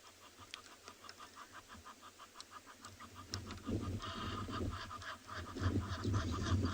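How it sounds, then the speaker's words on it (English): Egyptian geese honk repeatedly at a South African safari waterhole, a rhythmic series of nasal calls at moderate distance, joined later by a louder low rumbling animal sound. "You can hear Egyptian geese."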